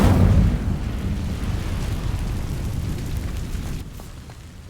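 A burst of fire flares up as a spell sets dry vines alight in Hogwarts Legacy, with a loud whooshing onset that settles into a steady crackling roar and then fades slightly, with no talk.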